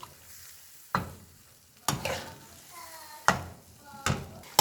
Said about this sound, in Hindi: अब हम इसकी एक दफ़ा फिर से बुनाई कर लेंगे